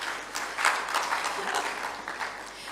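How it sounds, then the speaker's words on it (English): An audience at a rural youth agribusiness forum claps in a sustained round, a thick, moderately loud patter with small swells of louder hands throughout. "Please, a round of applause for him again"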